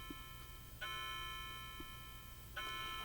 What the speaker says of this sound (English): See if it chimes 8.